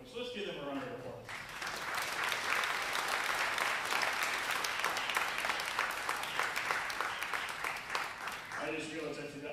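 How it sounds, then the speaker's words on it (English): Round of applause from an audience at an organ concert, dense clapping swelling in after the final notes of an organ fade and continuing steadily until organ tones return near the end. "So let's give them a round of applause."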